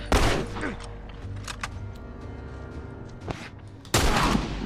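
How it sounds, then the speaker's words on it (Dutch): Gunfire in The Last of Us Part video game, a burst of loud sharp shots at the start, scattered impacts through the middle, and another loud blast near the end, all close and dense. "Ik ga mijn wapen pakken. Ik schiet ze zo hard zo, hè."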